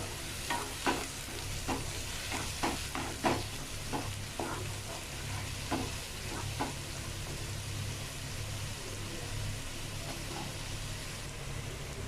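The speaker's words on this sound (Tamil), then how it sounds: "வெங்காயத்தோட பச்சை வாசனை போகிற வரைக்கும் வதக்கி விடுங்க." Onions sizzle steadily while sautéing in a pan for a paneer masala, a soft continuous frying hiss broken by scattered scrapes and taps of a spoon stirring, close and fairly quiet.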